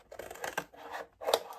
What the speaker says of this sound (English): you're gonna take a pair of scissors and you're just gonna cut exactly what you drew